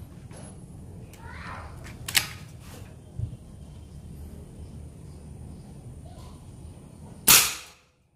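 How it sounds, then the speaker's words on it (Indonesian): Low background rustle and a few small mechanical clicks, then a single sharp, close folding PCP air rifle shot near the end. "Tembakan ketiga."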